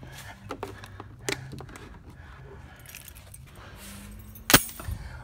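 Car keys jangle up close during a home oil change on a 7th-generation Nissan Maxima, a few brief metallic rattles with one sharp louder clink near the end over a quiet room.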